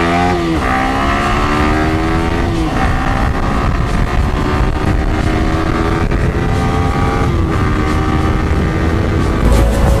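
Yamaha R15 motorcycle engine drones steadily and loudly while riding, with rising pitch as it accelerates through gears and brief shifts, wind rush underneath, no talking.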